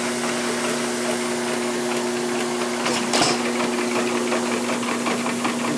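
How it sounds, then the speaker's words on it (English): An old hit-and-miss engine powering an ice cream maker runs steadily nearby with a faint rhythmic chuffing and a constant mechanical whine, one louder knock partway through. "hit and miss engine."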